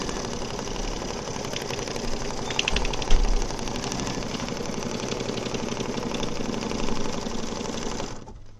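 A sewing machine stitches a tack-down seam on a fabric badge, running in a loud, fast, steady mechanical chatter for several seconds before stopping abruptly.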